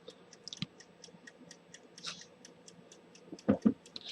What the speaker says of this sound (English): because I actually like the sound of a ticking clock.